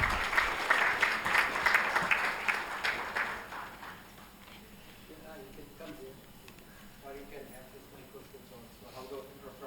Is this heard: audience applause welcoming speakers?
yes